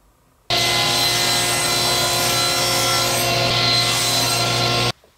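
A handsaw cutting through a piece of wood for a fret saw table, a steady, continuous rasping stroke noise running loud and close for several seconds before stopping abruptly.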